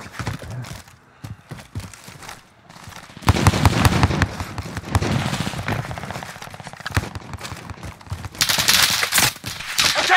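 Gunfire in Warzone on the Caldera map: after a quieter start, loud, crackling bursts of rapid shots break out nearby. A second flurry of sharp, bright shots follows near the end.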